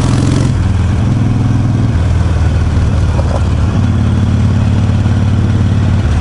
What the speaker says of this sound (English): It's my dirt bike, guys.